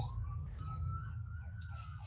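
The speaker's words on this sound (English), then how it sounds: "I'm sure you can hear those sirens." Wailing sirens rise and fall in the distance, several overlapping, faint against a steady low rumble.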